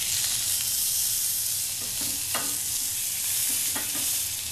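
Tenderloin hitting a hot, lightly oiled pan gives a steady, close frying hiss throughout, with a few brief sharper crackles and pops over it and no talking.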